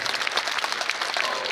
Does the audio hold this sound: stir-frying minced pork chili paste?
no